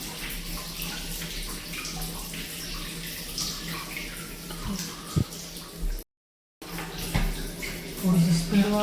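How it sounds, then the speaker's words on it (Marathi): Water pours through a pipe into a storage tank, a continuous gushing and gurgling flow with a few sharp knocks and a brief dropout, as someone talks intermittently over it. "आता टाकी भरून जाते आरामशीर"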